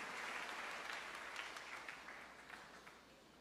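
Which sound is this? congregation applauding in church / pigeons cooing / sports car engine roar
congregation applauding in church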